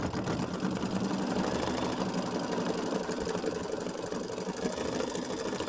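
An embroidery machine stitches down mylar and then works a decorative fill, giving a steady, rapid, mechanical whir and patter of needle strokes that runs evenly and close by for the whole stretch, with no voices.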